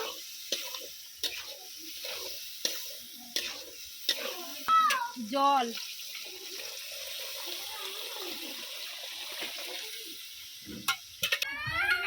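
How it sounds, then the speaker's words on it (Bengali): Boiled chickpeas stirred with spices in a pan, a soft bubbling sizzle with intermittent spoon scrapes and clinks, moderately close and steady throughout, with a few sharper knocks near the end. "এবারে আমি সেদ্ধ করে রাখা কাবলি ছোলাটা দিয়ে দিচ্ছি মশলার সঙ্গে আর একটু ভালো করে কষিয়ে নেব"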